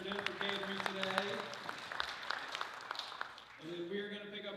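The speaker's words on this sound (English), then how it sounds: "Let's give another round of applause to Kim and Timberdin for catering today." An audience at a Rotary club gathering applauds the caterers, a run of close, brisk claps rising and falling, with a voice speaking over and around it.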